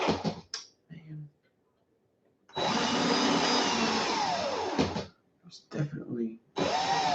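A power drill whirs in loud, sustained bursts twisting 28-gauge wire on a swivel, stopping and starting, with a person talking briefly between runs.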